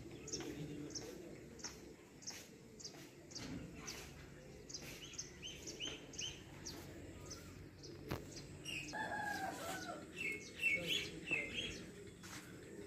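Pigeons at a kabootar bazi pigeon-flying tournament, with faint bird chirps, coos and a distant rooster crow over soft outdoor background and low voices.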